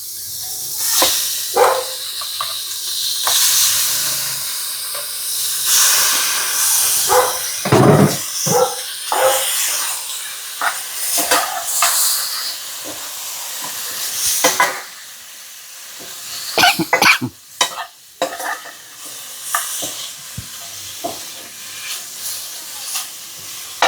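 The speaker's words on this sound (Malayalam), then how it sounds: "നമ്മുടെ മീനുണ്ടല്ലോ അതിലേക്ക് അങ്ങോട്ട് ഇട്ട് കൊടുക്കാം" Fish sizzles in a hot pan of coconut oil in a home kitchen, a steady loud hiss and crackle broken by sharper spatters and clinks of utensils, close up and without talking.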